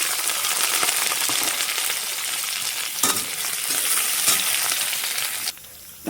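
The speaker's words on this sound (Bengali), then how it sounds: "হলুদের সাথে পেঁয়াজটা ভালো করে ভেজে নেব, লাল লাল করে" Small chopped onion sizzles loudly in oil left over from frying fish, with turmeric added, as a steady close crackle broken by stirring clinks that stops abruptly near the end.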